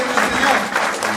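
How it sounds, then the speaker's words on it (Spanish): Church congregation giving an offering of applause during a Spanish-language service, a brief dense burst of clapping and crowd noise. "Dale una ofrenda de aplausos"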